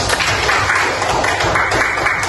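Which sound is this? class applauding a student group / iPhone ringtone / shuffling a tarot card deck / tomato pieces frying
class applauding a student group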